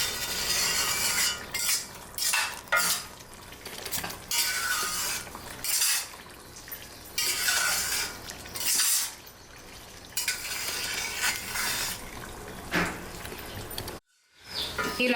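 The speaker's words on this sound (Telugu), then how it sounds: "చక్కగా ఇలా కలుపుతూ మిక్స్ చేసుకోండి. ఒక 5 మినిట్స్లో ఇది మంచిగా ఫ్రై అవుతుంది." Ginger paste frying in hot oil in a pan on low heat while a utensil stirs it, with repeated scraping and clinking strokes over a continuous sizzle and a short quiet break near the end.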